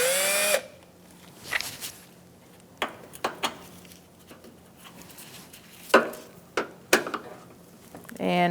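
Phillips screwdriver working a headlight grommet loose on a 2004-2009 Mazda 3, scattered sharp clicks and scrapes with a brief voice at the start and end.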